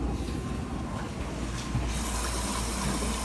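A Primus washing machine fills with water on a normal warm cycle, with a steady, gushing rush of water and no talk.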